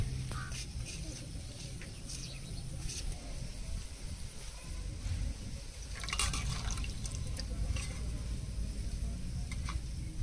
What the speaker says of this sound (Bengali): ডালিমের পাতা আর বাবলার পাতা বেছে নিয়েছি, এবার ধুয়ে নেব।